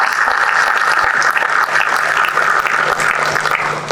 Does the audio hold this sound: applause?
yes